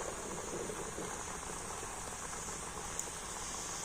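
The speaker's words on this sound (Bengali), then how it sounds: "তেলটা ভালো করে গরম করে আর সেই তেলের মধ্যে নাস্তাগুলোকে ভেজে নিতে হবে" Semolina and milk snacks fry in hot oil, giving a faint, even bubbling hiss with a single small tick near the end.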